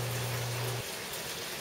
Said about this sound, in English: You can hear the wind and the rain starting to pick up now